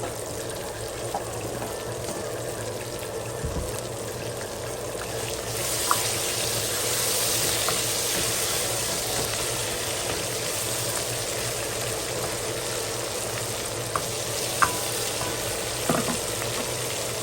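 Steady sizzling of ginger garlic paste frying in a hot pan, with occasional stirring scrapes and small pops, continuous and close throughout.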